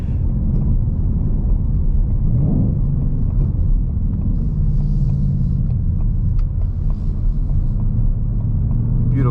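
Low, steady engine rumble from a 2019 Ford Mustang Bullitt during downshifts, with a brief swell in the middle, loud and continuous.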